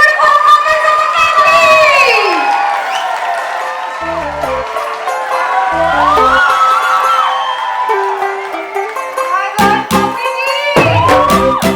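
Guests at a sangeet night and ring ceremony cheer, whoop and clap loudly, with excited voices and sung or musical tones running through the lively, close commotion.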